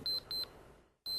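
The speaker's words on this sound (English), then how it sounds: "At 4 in the morning, when Bill's alarm goes off" An alarm clock goes off at 4 in the morning with sharp, high electronic beeps in short repeated bursts, a brief silent gap, then the beeping starts again, loud and close.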